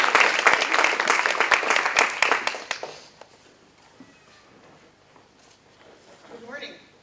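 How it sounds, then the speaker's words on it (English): An indoor audience at an institute session claps for about three seconds, a dense burst of applause that quickly thins to a few scattered claps and quiet room noise. "I'd love for you to give her a round of applause to start and one to finish"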